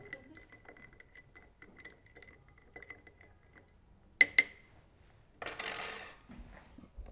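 A spoon stirs an Old Fashioned cocktail over ice in a glass, with quiet rhythmic clinks and ticks, then a couple of sharper glassy knocks and a brief rattling rush of ice, heard close and alone.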